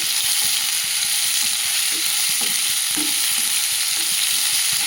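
Chilli powder sautéing in a pan for a low-oil tomato chutney, a dense, loud, continuous sizzle close up with faint scraping stir strokes and no voices.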